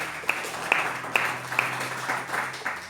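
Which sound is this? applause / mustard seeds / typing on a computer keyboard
applause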